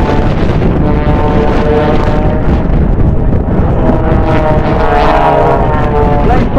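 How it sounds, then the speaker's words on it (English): Propeller aircraft from the Blades aerobatic team flying a double knife edge slide, a loud continuous droning roar with a whirling pitch that shifts as the planes pass close overhead, wind buffeting throughout. "listen to the aircraft whirl and whirl as it comes down together"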